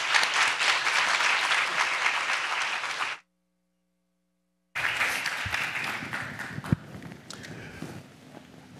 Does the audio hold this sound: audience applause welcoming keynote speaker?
yes